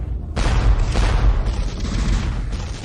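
A powerful cannon firing in a dramatic battle scene, a loud booming blast that erupts suddenly and rumbles on with a deep roll before easing off, no voices.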